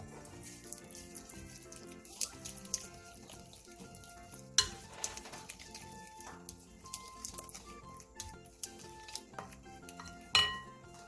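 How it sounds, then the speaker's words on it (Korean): Chopped scallions are tossed into a soy sauce, plum extract, garlic and sesame oil seasoning in a bowl, giving faint clinks and soft wet stirring under quiet background music. "양념장에 쪽파를 넣고 골고루 버무려주세요."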